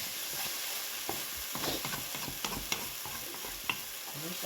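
Spice masala is stir-fried in a pan for an echor (young jackfruit) curry, with a steady sizzle broken by repeated spatula scrapes and knocks. No one speaks.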